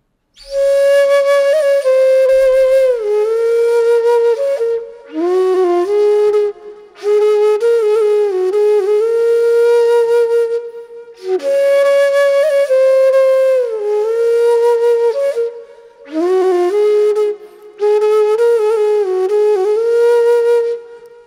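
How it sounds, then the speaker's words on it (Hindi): A flute plays a melody in sustained phrases separated by short pauses, clear and close with no voices. "फ्लूट सुनने में काफ़ी ज़्यादा अच्छी लग रही है"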